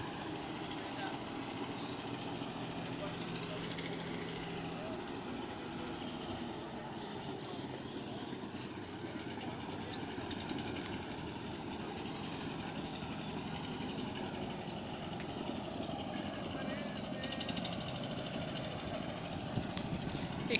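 A boat engine drones low and steady during a river crossing from a broken bridge toward Narsinghpur. The hum stays continuous throughout, with a voice heard at times over it.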